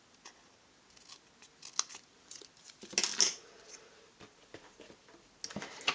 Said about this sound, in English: you're going to take your scissors and cut